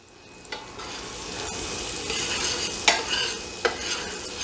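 Butter and oil sizzle in a pan as they are stirred before steak goes in, a rising steady hiss broken by a few sharp utensil clanks against the pan.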